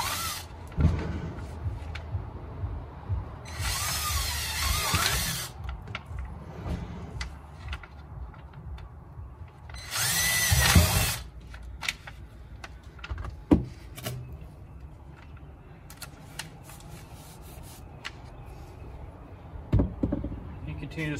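A power drill bores holes into a barrel through a template, with two sustained whining bursts of drilling separated by spoken instruction and small handling noises.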